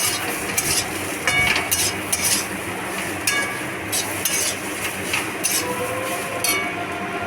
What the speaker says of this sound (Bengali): সমস্ত মশলাটাকে ভালোভাবে মিশিয়ে ভালো করে এটাকে ভেজে নেবেন